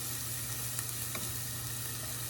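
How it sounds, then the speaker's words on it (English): Ginger and jalapeño sautéing in a pan, a steady close sizzle and frying hiss throughout with a couple of faint stirring clicks, no voices. "So I've got the saute going for the ginger and the jalapeno"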